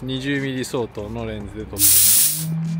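A dinosaur statue at a highway service area in Fukui releases a loud burst of misting spray, a bright sustained hiss near the end, preceded by voices talking up close.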